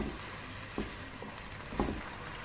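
Marinated chicken sizzles with softened onions in a hot pan, a steady close frying hiss broken by two brief stirring clatters.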